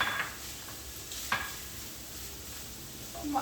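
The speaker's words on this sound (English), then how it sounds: "Now, I am going to add my chopped onion and garlic to this, right?" Chopped onion and garlic go into browned, drained ground beef in a skillet for baked spaghetti, giving a steady, soft sizzle with a few sharper stirring or scraping accents.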